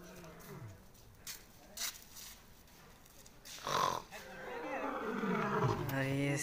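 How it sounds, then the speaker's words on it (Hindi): A lioness at Ormanjhi park in Ranchi gives a deep, growling roar that builds toward the end. People talk and there is some handling noise before it, with the roar close and strong. "ये शेरनी है"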